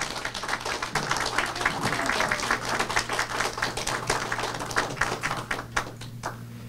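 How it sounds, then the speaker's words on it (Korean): An indoor audience at a Korean community gathering applauds in welcome, a sustained patter of many hands clapping at moderate volume that thins out near the end, with a low steady hum underneath. "우리 환영의 박수를 드리고 싶습니다"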